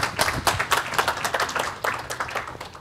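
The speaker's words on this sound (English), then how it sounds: "let's give Casey a big warm round of applause here" A conference audience gives a speaker a round of applause. Dense, steady clapping from many hands fills the room at an even level throughout, with no voices over it.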